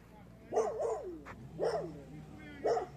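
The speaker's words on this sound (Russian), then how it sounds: "И, как всегда, собачки гавкают на нас." Dogs in the village of Mylva, Komi Republic, bark at passersby on a quiet residential street, sounding as three or four separate bark bursts spaced about a second apart at moderate distance.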